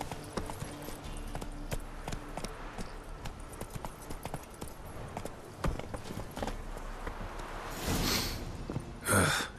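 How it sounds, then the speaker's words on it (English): Hooves of a horse clip-clop in The Witcher 3: Wild Hunt in a quick, uneven gallop at moderate level, followed by a couple of breathy snorts near the end. "Calm it down, Roach. They stop chasing."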